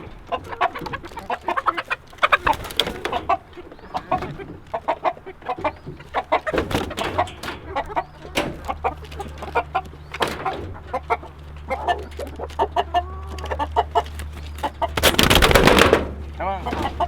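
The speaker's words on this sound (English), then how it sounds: "This one right here is my favorite looking chicken." Chickens and a rooster cluck and squawk on a homestead in a busy, continuous flurry of close calls, with a person talking among them and a louder burst of flapping and squawking near the end.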